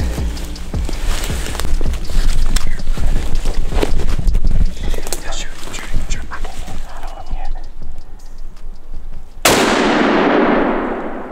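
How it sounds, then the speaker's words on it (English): A gunshot fired while hunting in thick mountain cover rings out loud and close near the end, its blast and echo following a stretch of rustling and low talk. "Shoot him again."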